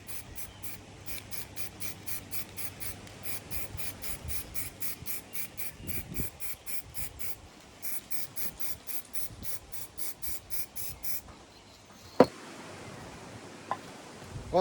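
Aerosol spray can applying touch-up paint to petrol lawn mower parts: rapid runs of short hissing bursts in steady rhythm, a brief pause, then another long string of quick sprays, followed by a couple of sharp knocks in a quiet room.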